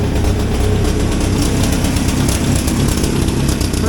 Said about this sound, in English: So that's idling nice there now. That's cool. The motor runs really nicely.